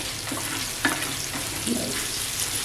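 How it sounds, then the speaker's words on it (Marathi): Clams fry in oil on a flat tawa with masala, giving a continuous close sizzle with a few brief stirring knocks. "शिंपल्यांचं आहे ना तवा फ्राय तयार झालेलं आहे"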